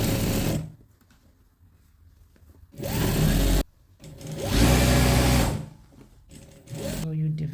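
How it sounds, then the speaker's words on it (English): A sewing machine stitches the top of a circle skirt, running in loud, steady bursts of close mechanical whirring separated by short pauses. "So now we are stitching the top."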